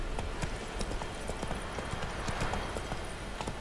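Roach the horse galloping in The Witcher 3, rapid continuous clip-clop of hooves at a fast rhythm against a dense, noisy backdrop of game ambience.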